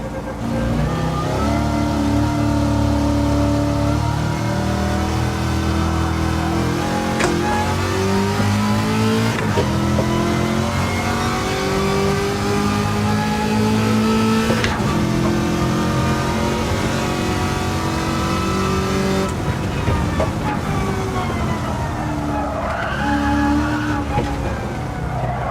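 A Corvette-engined car in Gran Turismo 7, heard onboard, revs hard and continuously with rising and falling engine pitch through gear changes, loud and close for the whole stretch.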